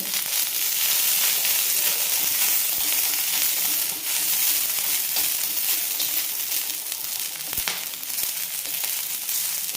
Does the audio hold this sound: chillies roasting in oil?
yes